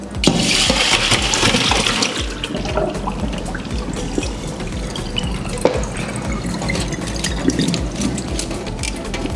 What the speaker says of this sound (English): take my strainer and put it in the sink while I pour out